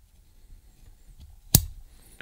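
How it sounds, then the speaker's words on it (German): Scissors give a single sharp snip as they trim the cotton wick flush against the deck of a vape coil build, a short loud click standing alone in quiet. "ich lege hier die Schere einfach direkt hier an das Deck an, führe sie hier entlang auf die Watte und schnipp, schnapp"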